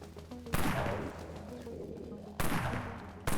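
Dawn Sniper rifle firing in the video game Dead Frontier: two loud, sharp single shots about two seconds apart, each with a ringing, slowly fading tail over a low game backdrop.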